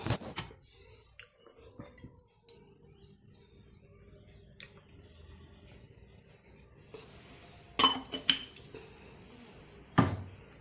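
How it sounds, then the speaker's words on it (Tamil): A kadai pan is set down and utensils clink while cooking vendakkai puli kuzhambu with a little oil. Sparse, close knocks and light metallic clinks are separated by quiet stretches, with two louder clanks toward the end. "அதே வடச்சட்டி வச்சுக்கலாம் இன்னும் கொஞ்சமே எண்ணெய் ஊற்றிக்கலாம்"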